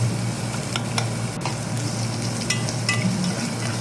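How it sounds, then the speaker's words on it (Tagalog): Garlic, ginger and onion sauté in a pan for chicken liver, with a steady close sizzle and faint stirring under a constant low hum. "Sutin natin guys hanggang lumabas yung aroma na yan guys."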